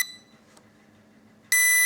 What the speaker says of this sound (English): it's emitting this kind of beep